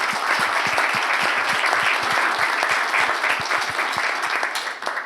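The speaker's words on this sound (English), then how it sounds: "To big applause" Sustained applause from a convention audience at the close of a talk at a roundtable discussion, dense steady clapping that stays loud throughout and eases slightly at the end.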